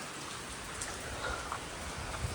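Steady rain falls throughout, a soft continuous hiss with occasional heavier drops pattering close by.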